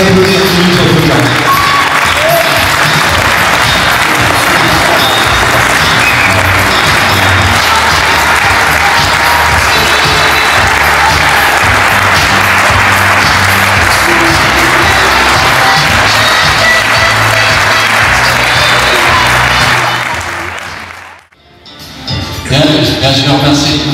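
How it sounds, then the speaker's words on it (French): Loud, sustained applause from an audience at a judo tournament in Sillé-le-Guillaume, steady dense clapping with some cheering and voices mixed in for about twenty seconds before it cuts off abruptly. "Vous pouvez applaudir sur notre programme."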